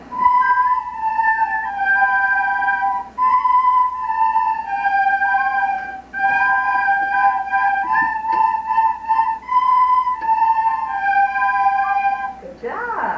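Grade 3 students playing recorders together at a school recital, thin bright tones in short held notes and simple phrases, several players in unison with brief pauses between passages.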